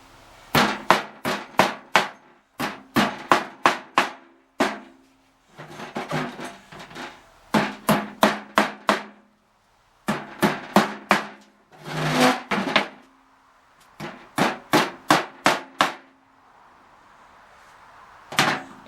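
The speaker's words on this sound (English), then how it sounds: "Bend over these nails so they're not whacking into me all the time." Hammer blows bending over nails in scrap pallet wood, loud close strikes in quick bursts of four to six hits separated by short pauses, repeated throughout.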